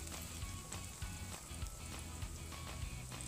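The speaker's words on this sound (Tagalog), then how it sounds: "Hayaang madissolve yung butter at ilagay na ang garlic. Isaute po ito hanggang sa maging golden brown." Garlic sizzles in melted butter in a preheated pan, a steady close crackling fry with light stirring scrapes throughout and no voices.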